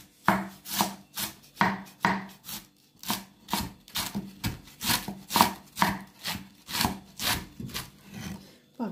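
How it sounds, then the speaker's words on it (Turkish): A knife chops rhythmically on a wooden board, quick steady strokes thinly slicing crisp red cabbage, close and clear with no voices. "Bak böyle ince ince gücümüzün yettiği kadar doğrayalım yani."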